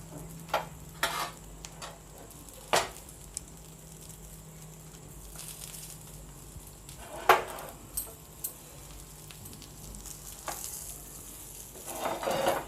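An egg for a cheese bread omelette fries in a pan with a soft, steady sizzle, broken by occasional sharp clicks and scrapes of a utensil against the pan, close and fairly quiet.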